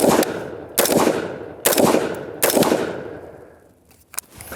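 Four loud carbine gunshots fired from a non-standard shooting position, each a sharp crack with a long echoing tail, spaced evenly about a second apart, followed by a fainter click.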